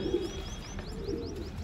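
A male pigeon coos in soft, repeated throaty rolls, close by with a faint high chirping behind it and no talk.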